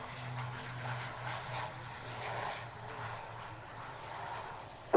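A Spitfire propeller aircraft flies past, its engine a low droning hum with a wavering tone that rises and falls gently, moderately distant, with no talk.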